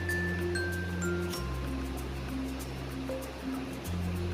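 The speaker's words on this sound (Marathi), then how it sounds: "आता याला पाणी टाकून पातळ करून घ्यायचं आहे" Water is poured into a rice paste in a bowl, giving a steady rushing, splashing wash that holds for several seconds, with a low tonal hum in the background.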